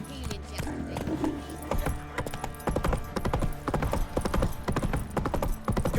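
Horse hooves clip-clopping in the video game The Witcher 3: Wild Hunt, a steady trotting rhythm of crisp, close hoofbeats continuing throughout, with a brief whinny-like sound early on.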